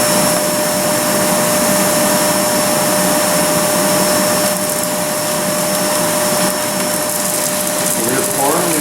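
A shop vacuum fitted with a Dust Deputy cyclone roars steadily and loudly while ground cocoa nibs are winnowed through it, a continuous close whine throughout.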